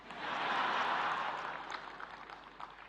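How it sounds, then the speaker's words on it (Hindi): An audience at a national creators' awards ceremony in New Delhi, men among them clapping, gives a soft, diffuse wash of applause that swells over the first second or so and gradually fades, sounding somewhat distant. "ताली बजा रहे हैं"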